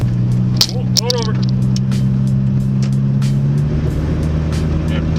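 A turbocharged Honda del Sol drives along with a steady low engine drone and road rumble from inside the car, the pitch shifting slightly partway through, with brief voices and small clicks over it.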